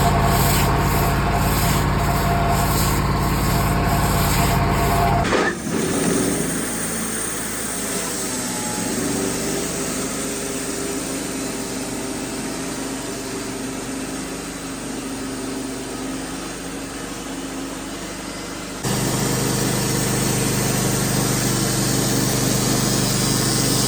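An LT35 Wood-Mizer band sawmill cuts through a huge poplar log into wide boards, a loud steady engine drone and blade whine running continuously with a shift in tone partway through, no talking.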